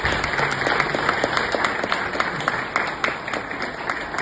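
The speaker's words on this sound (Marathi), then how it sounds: "आपण सगळ्यांनी जोरदार टाळ्या वाजवाव्यात ही विनंती" An audience at a farewell speech in a hotel gives steady, dense applause from many hands, evenly loud and sustained throughout.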